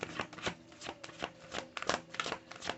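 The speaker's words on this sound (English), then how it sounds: "Let me pull a Heal Yourself card for you guys." Tarot cards are shuffled by hand, giving quiet, close, rapid riffling and slapping bursts in an uneven rhythm.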